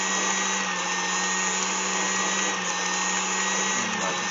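A stand mixer beats sugar cookie dough made with sour cream, a steady loud motor whir and hum that holds constant throughout without pauses.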